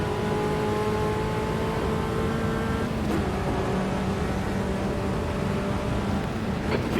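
Fiat race car engine from a classic-car racing game in a storm, a loud sustained engine drone with steady harmonic whine, pitch shifting slightly midway before holding on.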